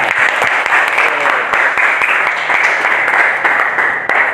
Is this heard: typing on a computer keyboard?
no